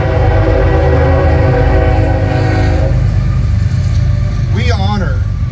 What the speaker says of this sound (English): a train's not gonna stop